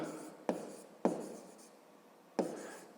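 A pen or pencil writes a word by hand on paper during a fifth-grade maths exercise, soft scratchy strokes with three sharper taps as new strokes begin, close and quiet, no talk.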